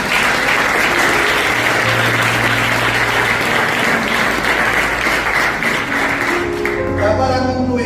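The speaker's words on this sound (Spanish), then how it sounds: "Denle un aplauso al Señor." A church congregation applauds steadily and loudly for several seconds, a dense wash of clapping that thins out toward the end as a few voices come through.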